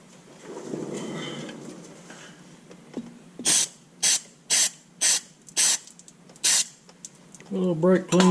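Brake cleaner sprayed on a backhoe during servicing, six or seven short, sharp aerosol bursts in a quick even rhythm, close to the mic, with someone talking before and after.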